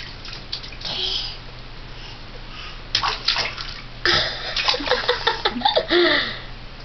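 Water sloshes and splashes in a bathtub in irregular bursts, growing livelier toward the end, with a child's faint giggles and voice mixed in.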